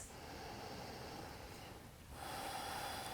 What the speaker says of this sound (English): Stay here for 3 deep breaths